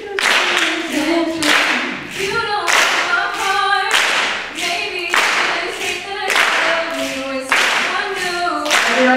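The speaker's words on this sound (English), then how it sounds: "clap, snap." Audience finger snaps and hand claps alternating on the backbeat in a steady rhythmic pattern, loud and close, with a sung or tonal melody running underneath the percussive hits.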